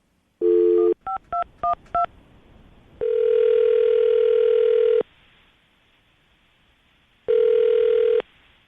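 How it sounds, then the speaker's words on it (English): A landline phone call being placed: a short dial-tone burst, a quick run of four touch-tone DTMF beeps, then two long ringback tones separated by a pause, loud and close with no talking. "we're going to call her right now, see if we can get her on the phone"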